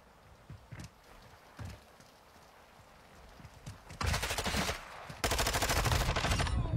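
Automatic gunfire in the video game Warzone, a few sparse single shots early on, then two loud rapid bursts of firing close by at the end.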